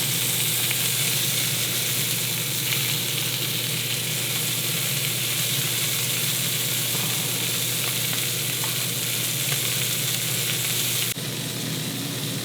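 Chicken breasts pan-frying in oil, browned on one side, giving a loud, steady sizzle and crackle that holds close and continuous throughout.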